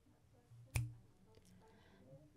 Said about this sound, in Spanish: Otro ejemplo es el sonido de un chasquido de dedos.